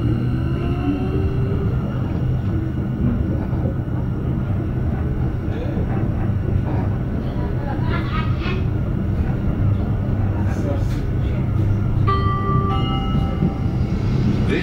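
A Sheffield tram train rolls along with a steady, loud rumble, joined by metallic squeals and whines from wheels and motors.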